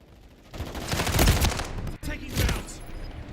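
Video game gunfire in Call of Duty erupts as a rolling volley of loud shots and bursts, peaking midway and then tapering into scattered fire.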